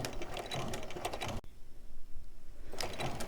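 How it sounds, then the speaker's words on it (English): A sewing machine stitching raw-edge appliqué fabric with a big stitch, rapid mechanical clatter close by, pausing for about a second and a half midway before running again. "I'm just going to sew all the way around using that nice big stitch."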